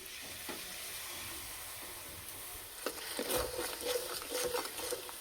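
Pieces of bottle gourd go into spices frying in hot oil for a gourd-and-shrimp curry, setting off a sudden, louder crackling sizzle with stirring scrapes after a quieter stretch of low frying hiss.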